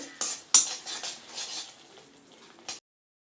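Mint masala rice being stirred in a pan for puthina sadam, a few sharp spoon clinks against the metal followed by softer scraping and mixing, close and moderately quiet with no voice.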